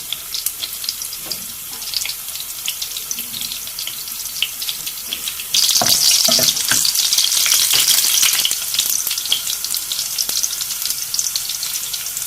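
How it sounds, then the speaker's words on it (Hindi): Garlic fries in a pan for a daal masoor recipe, a constant crackling sizzle that jumps louder halfway through, with a few spoon scrapes and clatters on top and no voices. "पहले मैं लहसुन को थोड़ा सा फ्राई कर रही हूँ"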